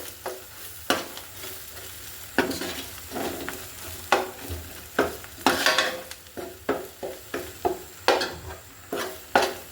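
Beef being stirred with spices in a hot pan: soft steady sizzling under repeated scraping strokes of a spatula against the pan, about one every half second, close and fairly quiet.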